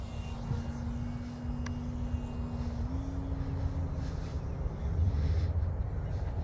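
A Park Zone Radian RC model glider landing on a lake in the morning, its small electric motor giving a thin, steady drone at moderate distance over outdoor background noise.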